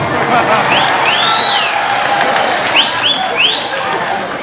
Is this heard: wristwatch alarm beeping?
no